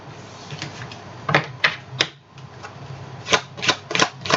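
Tarot cards being reshuffled by hand, a run of crisp riffling bursts and short slaps in quick irregular clusters, close and fairly quiet, with no talking.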